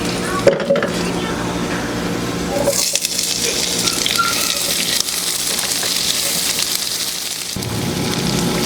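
Onions dropped into a hot pan with browned garlic: a dense, steady sizzle and frying hiss, close and loud, broken by a clatter as they go in and a brief stirring scrape.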